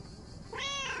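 A cat named Mortimer in the video game Lake gives a single clear meow halfway through, close and distinct over quiet background.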